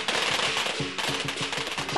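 Firecrackers explode at a Lunar New Year celebration in a Yuen Long walled village, a loud, rapid string of sharp cracks firing in quick succession.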